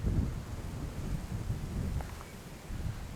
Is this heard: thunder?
yes